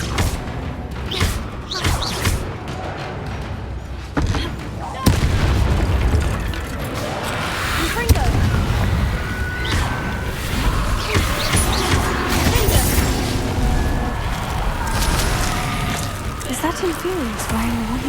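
Confringo and Bombarda spell explosions in the Hogwarts Legacy video game, with repeated booms, thuds and crashes layered over game music and battle noise while voices speak throughout.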